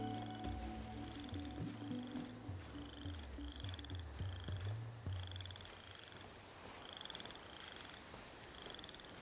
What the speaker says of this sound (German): Frösche im Hintergrund.